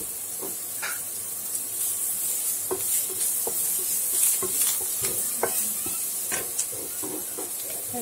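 Curry leaves and finely chopped onion sautéing in a pan for masala Maggi, a steady hissing sizzle with occasional stirring taps and scrapes, close and continuous without talk.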